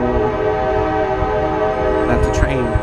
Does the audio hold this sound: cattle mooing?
no